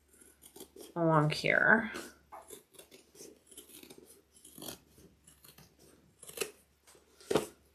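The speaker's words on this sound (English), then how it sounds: "So I'm just trimming down the tiniest bit and then I'm going to put some snips into that curve." Scissors snip through the fabric seam allowance of a shoulder bag being sewn, one longer cutting burst followed by several short, quiet snips, with someone speaking softly during the cutting.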